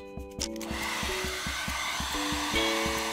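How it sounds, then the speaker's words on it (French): A hair dryer set on high blows a steady whirring roar while heating plastic at close range, with a low motor hum running continuously throughout. "allumer le sèche-cheveux sur fort et chauffer le plastique"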